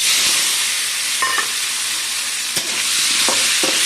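Salt-and-turmeric-coated potatoes sizzle steadily in hot oil, a dense close frying hiss with a few soft clinks of a utensil, no voices.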